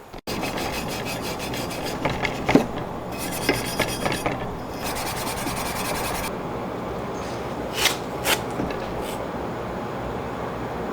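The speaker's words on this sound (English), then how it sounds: "Now we're on to getting the lower intake manifold sanded down so I can paint this too." Sanding down a VW VR6 lower intake manifold by hand, a steady continuous rasping scrape that runs throughout, broken by a few brief pauses and louder knocks.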